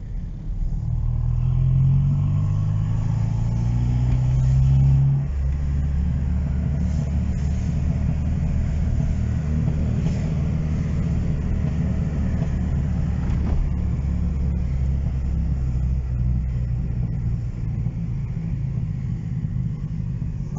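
A 1989-style Ford Fiesta MK3 1.1i 8-valve 60 hp petrol car drives steadily, its low engine drone and road rumble continuous and close, with a brief rise in pitch early on and no talking.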